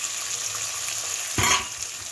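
Food fries in a pan with a continuous bright, hissing sizzle, close and steady, broken once by a brief louder burst of crackling near the middle, with no one talking.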